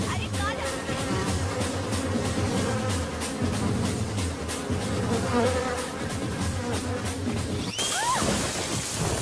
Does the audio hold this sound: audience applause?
no